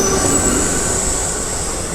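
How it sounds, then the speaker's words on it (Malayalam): A train rushes past a railway level crossing at speed, its loud close rumble of wheels on rails overlaid with a high metallic squeal. "ട്രെയിൻ വന്നു."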